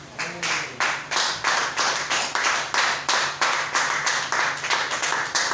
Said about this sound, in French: Acclamons le Seigneur pour Marceline.